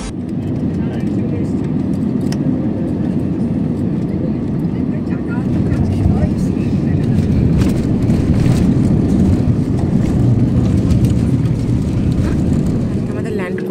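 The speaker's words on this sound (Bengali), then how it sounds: "আমাদের ল্যান্ড করে গেছে শ্রীনগর এয়ারপোর্টে।" A passenger plane lands at Srinagar airport, heard from inside as a loud, constant engine and cabin rumble with a few bumps and rattles, while passengers talk throughout.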